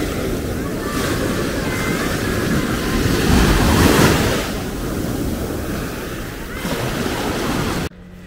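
Sea waves breaking on a beach in Malaga, a loud continuous wash of surf with swelling surges, mixed with wind rumble on the microphone.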